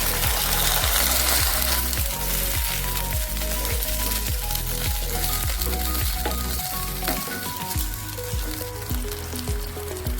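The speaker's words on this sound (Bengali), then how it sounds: "একটু পানি দিয়ে দেব মশলাটা কষানোর জন্য" Water poured onto ginger and garlic paste frying in oil for a masala gives a loud, close, continuous sizzle, crackling throughout with rhythmic scraping stirs of a spoon against the pan.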